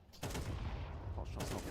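AK rifle fire in Counter-Strike during a tournament match, heard as rapid bursts of gunfire that sound dense and sustained and continue steadily for under two seconds.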